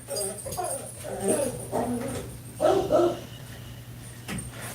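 Household dogs bark and yip in quick clustered bursts at moderate distance, with whimpering notes mixed in and a lull before a final short bark.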